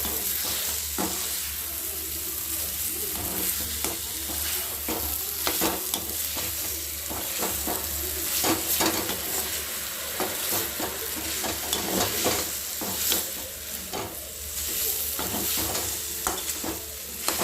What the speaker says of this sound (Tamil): கொட்டிட்டு அப்படியே மிக்ஸ் பண்ண போகிறோம்.